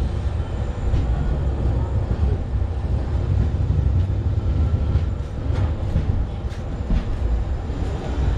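Kannur–Yesvantpur Express running onward after pulling out of Kuttippuram in Kerala, a steady loud rumble of wheels and carriage with faint rhythmic clacks throughout, heard from inside the train with no talk.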